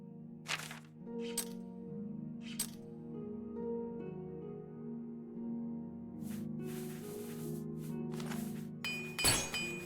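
Repeated metallic clinks and hammering strikes from equipment repair in the video game Oblivion, sharp bright hits spaced irregularly over a steady layer of game music, ending in a louder crash.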